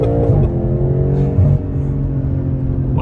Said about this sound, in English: All right, driving the M8 Competition.